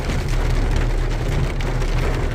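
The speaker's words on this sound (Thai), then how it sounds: "เห็นฝน ครั้งแรกของปีพี่น้อง" Heavy rain pours down steadily, the first rain of the year, a loud, dense hiss of drops striking surfaces up close with no break and no voices.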